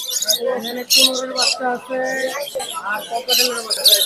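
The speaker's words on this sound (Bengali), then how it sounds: "এই যে এখানে বাচ্চা পাখি আছে" Baby birds chirping at a busy bird market, with high squeaky calls repeating in bursts close by, mixed in with people talking.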